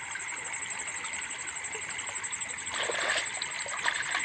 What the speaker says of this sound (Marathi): हे वाहतं पाणी इकडे मस्त आहे